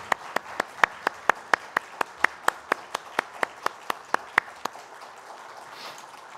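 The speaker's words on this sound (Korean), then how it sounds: "하나님께 영광의 박수 올려드리겠습니다" Clapping during a Sunday joint worship service, given as applause to God: a single clear, evenly spaced run of about twenty sharp claps close by, slowing and fading out near the end.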